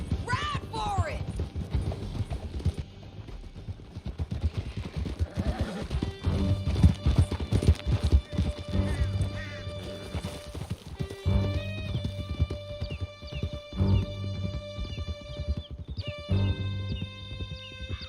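Horses gallop with steady clip-clop hooves and an occasional whinny across a Red Dead Redemption 2 riding scene, a continuous run under shouted voices, with swelling music tones layered in during the second half.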